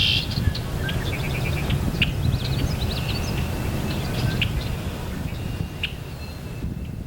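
Red-winged blackbirds calling outdoors: repeated short chirps and checks scattered over steady low background rumble, moderately near, with no talking.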